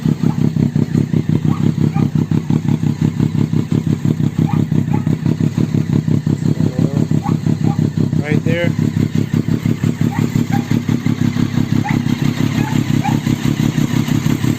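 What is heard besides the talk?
sport motorcycle engine idling and revving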